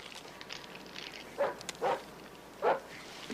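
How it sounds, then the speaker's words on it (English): Three short dog barks from a dog next door, spaced irregularly over a quiet indoor background, clear and moderately close. "Damn dog."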